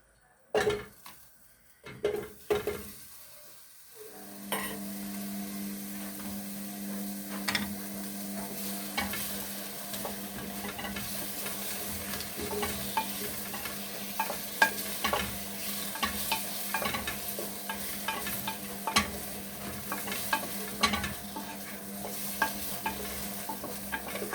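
Leeks sauté in a sauté pan that held onions, bacon lardons, turnips and carrots, a steady close sizzle after a quiet start, with repeated utensil scrapes and clinks as they are stirred.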